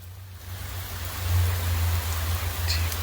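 Rain pours down in a steady, even hiss layered over a constant low rumble, moderately loud and continuous throughout, with no voices.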